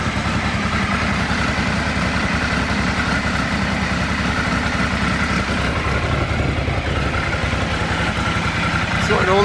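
A 1996 Triumph Trophy 900 motorcycle engine idling nearby, a steady, loud, low rumble throughout with a faint rattle and a brief knock near the end, while someone talks over it.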